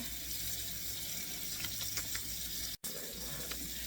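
Tap water running steadily at a hair wash station in a salon, a faint, even hiss with a brief cutoff near the end before resuming.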